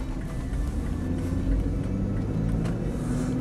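A Jeep Grand Cherokee 4.0 Limited pulls away smoothly, heard from inside as a steady low engine rumble with a mild swell as it gains speed, fairly quiet and even throughout.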